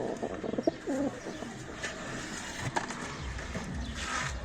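Pigeons inside their coop, giving low rolling coos early on, followed by scattered rustling and shuffling, moderately close and fairly quiet.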